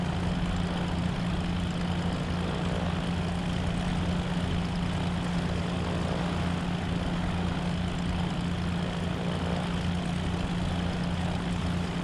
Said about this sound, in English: Just wish my plane wasn't so loud, but that is realistic, I guess.